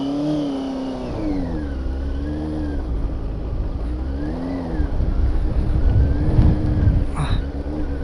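A Benelli TnT 600i 600cc motorcycle engine revs repeatedly on a road ride, its pitch rising and falling in several sweeping pulls under steady wind and road noise.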